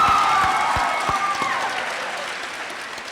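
An audience at a community celebration event breaks into applause that starts full and gradually thins and fades, with a few distinct claps standing out near the start.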